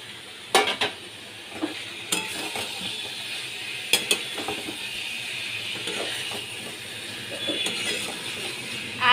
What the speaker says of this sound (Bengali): আলু, ডিম আর ফুলকপি দিয়ে আমি ভালো করে কষিয়ে নিচ্ছি।